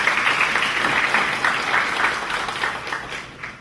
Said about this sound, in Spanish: a quien pido un fuerte aplauso por su asistencia